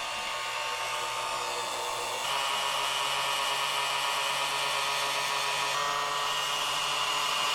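A heat gun blows steadily on a seized cylinder of a BMW R75/5 airhead motorcycle, a loud continuous whooshing hiss that steps up slightly in level partway through.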